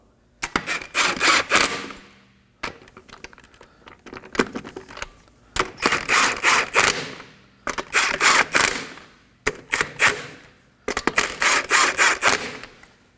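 Lug nuts on a Kia Sorento wheel rattle and click in quick metallic bursts as they are spun on and snugged by hand, five separate close-up runs of ratcheting clatter with brief pauses between them.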